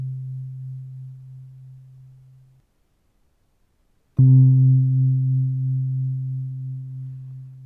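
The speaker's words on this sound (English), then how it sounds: "Bit of distortion there." A low buzzing synthesizer tone holds, cuts to silence, then returns with a sharp attack, louder and gritty with distortion.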